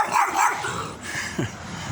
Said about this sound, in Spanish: ¡Ay, carajo! Perrito chico.